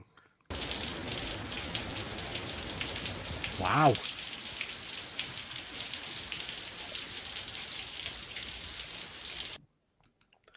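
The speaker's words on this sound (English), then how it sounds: "I have a quick little video I want to show you guys that it does actually rain here" Steady drizzle patters on a backyard, replayed through a speaker as a continuous hiss of raindrops that runs for several seconds and then cuts off abruptly, with a brief exclaimed word partway through.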